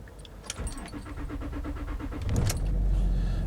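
A Land Rover Discovery 3 cranks and fires up after a few quiet clicks and rustles, its engine settling into a loud, steady low rumble close by.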